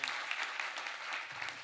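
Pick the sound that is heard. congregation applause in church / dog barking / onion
congregation applause in church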